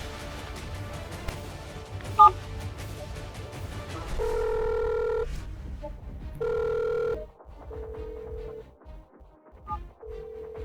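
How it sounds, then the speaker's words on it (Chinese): A telephone line on speakerphone, dialing a number that is not in service, gives steady tonal beeps and ringing pulses in repeated bursts, fairly loud, with a busy room hum underneath. "拨电话，看免提。"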